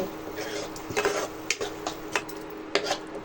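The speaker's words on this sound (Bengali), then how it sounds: "মশলাটাকে ভালো করে ভাজিয়ে নিব" Kashmiri chilli powder and meat masala frying in a pan, a low sizzle broken by several sharp spoon scrapes and clinks against the metal.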